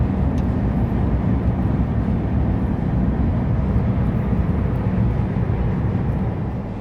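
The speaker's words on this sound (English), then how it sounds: "there you can just listen to that straight six sing" Straight-six engine of a Mercedes W124 E-Class heard from inside the car while driving, a steady, loud low drone that holds its level throughout with little change in pitch.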